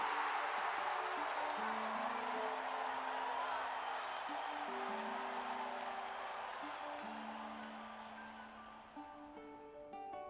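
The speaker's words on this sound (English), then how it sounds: "Just listen to that. Bet I can make them cheer louder" Crowd cheering at a contest in the Octopath Traveler II video game, a broad roar of voices that fades gradually while stepped game music tones play underneath.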